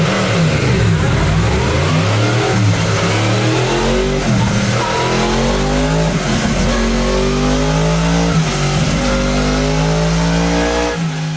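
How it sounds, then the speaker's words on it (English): A Yamaha CP4 inline-four motorcycle engine revs hard and repeatedly, rising and falling in pitch, loud and close throughout with no talking. "Yamaha's CP4 might well be my favourite sounding engine ever produced"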